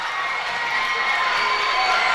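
A high school basketball gym crowd cheers loudly after a basket, a dense roar of shouts and yelling swelling slightly toward the end.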